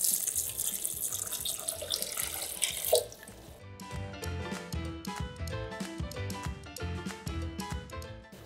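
Water pours in a steady hissing stream into a blender for a few seconds, then stops as rhythmic music takes over.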